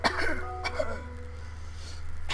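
An old man in Stardew Valley gives a few raspy coughs close up, followed by quieter throat sounds over a low background hum.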